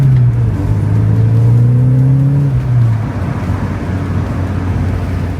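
A Porsche 944 Turbo accelerates hard from a standstill toward 60 mph, its engine note climbing loud and close for about three seconds before dropping into a steady roaring drone.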